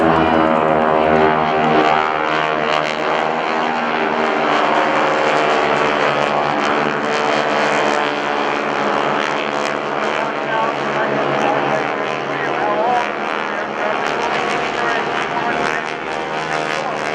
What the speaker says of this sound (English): the GEICO Skytypers fan pass